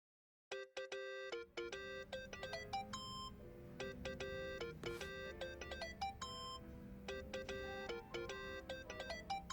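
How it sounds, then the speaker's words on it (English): A phone ringtone in the video game Yakuza: Like a Dragon plays a bright, repeating electronic melody of stacked tones, loud and steady from start to finish over a low background hum. "Think that's your phone, man."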